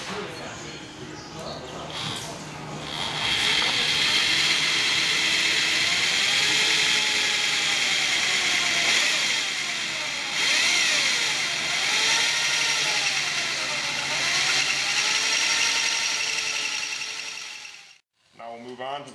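A drill bores a pilot hole into an aluminum motorcycle swing arm, a loud, steady high whine that rises and dips in pitch as the bit cuts, running close and continuous before cutting off near the end, with some talk over it.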